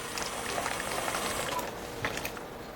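An Odyssey Argos espresso machine flushes water through its group head, a steady bubbling, gurgling rush of flowing water with small crackles, close and continuous.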